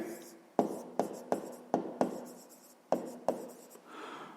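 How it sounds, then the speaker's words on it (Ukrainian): Pen or chalk taps and scratches out handwritten math figures in a quick irregular series of sharp strokes, close and clear, with a voice speaking softly in between. "То записуємо третя дія, пишемо"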